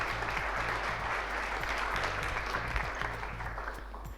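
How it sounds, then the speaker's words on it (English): An audience at a jury-judged event gives sustained applause, a dense wash of clapping over a steady low hum with faint tonal beeps in the background, tapering off toward the end. "please, big applause"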